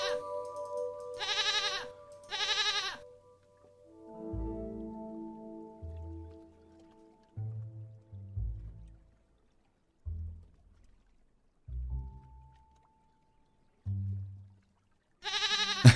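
Goat bleating in the puzzle game Rusty Lake Paradise, several short nasal bleats in quick succession at the start and again at the end, with soft game sounds and low tones in between, no talk over it.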